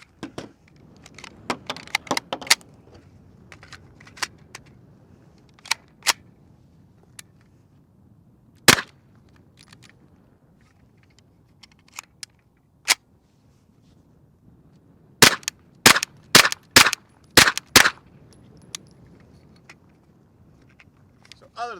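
B&T TP9 submachine gun firing, sharp loud cracks spread out: a few scattered shots, then a quick cluster of several near the end, with low muffled background noise between.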